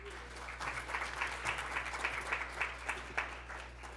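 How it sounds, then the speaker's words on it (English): Audience at a talk event gives a moderate round of applause, steady, somewhat distant clapping sustained for a few seconds over a low background hum. "So I just want to give all of you a round of applause"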